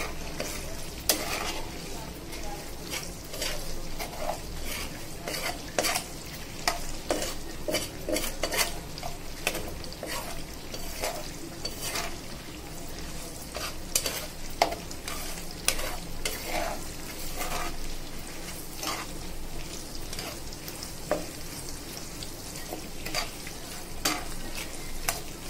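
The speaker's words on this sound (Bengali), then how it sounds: "এদিকে আমি ডালে বাগার দেওয়ার জন্য পেঁয়াজ, রসুন আর শুকনো লঙ্কা তেলে ভেজে নিচ্ছি।" Onion, garlic and dried chillies frying in oil for a lentil tempering, a steady close sizzle broken by frequent clinks and scrapes of a utensil against the pan throughout.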